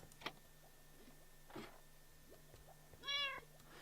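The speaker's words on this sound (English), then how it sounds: "This goofy cat, let me tell you, is he still down in the basement?" Cat meowing in the Minecraft video game: one clear, fairly faint meow late in the clip, with a few soft clicks and taps before it over a quiet steady hum.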